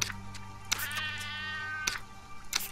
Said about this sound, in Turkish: Kedi miyavlıyor.